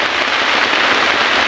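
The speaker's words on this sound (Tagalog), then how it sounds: "Umuulan na naman" Heavy rain pours down in a dense, steady hiss of drops on surfaces, loud and close and unbroken for the whole short stretch.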